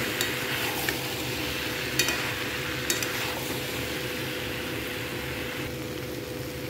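Soya chunks and potatoes stir-fried in a pan, a steady close sizzle with a few sharp utensil scrapes and clinks against the pan, no talking.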